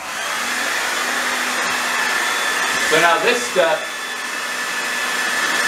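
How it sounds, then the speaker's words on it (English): A hair dryer used to heat something before pouring wax blows steadily and loudly throughout, with someone speaking briefly over the continuous whir. "I'm just going to take a hairdryer, I'm going to heat this up"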